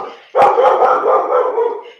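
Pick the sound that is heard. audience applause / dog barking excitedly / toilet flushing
dog barking excitedly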